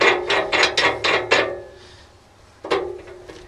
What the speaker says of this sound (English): So as I put the bolt in, it's as simple as this.